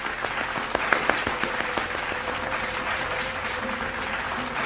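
Loud audience applause welcoming poet Ajay Awasthi Anuragi at a poetry recitation event, sharp individual claps building into dense, sustained clapping from a crowd.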